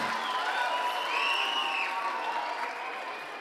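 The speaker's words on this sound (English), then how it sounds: "Give him a round of applause." A lecture audience gives a warm round of applause, sustained dense clapping with a few cheers and whoops rising over it, holding steady and then easing off slightly.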